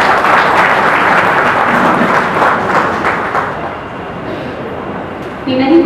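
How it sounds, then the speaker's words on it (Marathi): Audience at a book launch clapping, a dense, sustained applause that fills the room and gradually thins toward the end, with voices briefly audible as it dies down. "सर्वांनी जोरदार टाळ्या वाजवूया."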